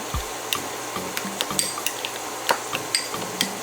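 Ingredients with olive oil get mixed in a pan, giving light repeated scraping and tapping of a utensil against the pan in an irregular stirring rhythm, close and unaccompanied by talk.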